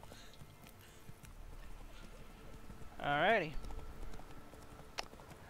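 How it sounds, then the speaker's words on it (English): Horse hooves clip-clop in the video game The Witcher 3 as a mount is called, with a short whinny midway and someone talking over the steady hoofbeats. "Let's get my magical horse."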